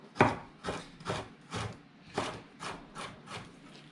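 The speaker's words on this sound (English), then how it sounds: "Cut these guys into little matchsticks also." Kitchen knife chopping vegetables into matchsticks on a wooden cutting board for kimchi, about eight crisp, evenly spaced cuts close up with no talking.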